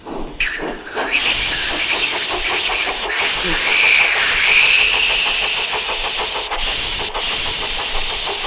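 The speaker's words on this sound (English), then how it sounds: "steam hissed from his safety valve in an alarming way" Steam hisses loudly from a steam locomotive's safety valve, a bright, sustained rush that starts after a brief low rumble and continues with small breaks and flutters.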